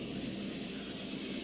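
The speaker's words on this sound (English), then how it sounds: "So cold is the Labrador that it carries a threat to shipping, a hazard this Coast Guard plane is assigned to monitor." Steady broadband drone of a Coast Guard International Ice Patrol aircraft engine, a constant loud hum from inside or near the plane with no break and no talk.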